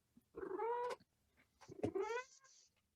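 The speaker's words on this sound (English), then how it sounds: "That's a vocal cat." A cat lets out two loud, drawn-out meows close by, the second rising in pitch and then trailing off, with quiet room tone between them and no talking.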